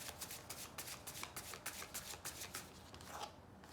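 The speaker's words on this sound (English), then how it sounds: "Last shuffle, and I picked from the middle." Oracle cards are shuffled by hand in quick riffling bursts, a soft rhythmic flutter of papery slaps, close and quiet with no talking.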